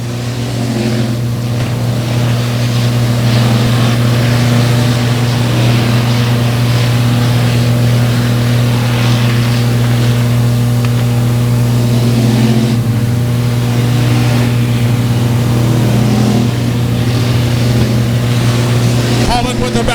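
Race cars at Buffalo Creek Speedway heading into turns one and two, their engines a loud sustained droning roar with steady harmonic tones rising and falling slightly, under a race announcer's talk.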